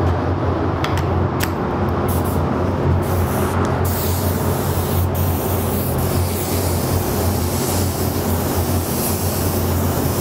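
A spray gun laying down the first coat of metallic gold base coat on a panel, a loud continuous hiss of air and paint that runs steadily from start to finish.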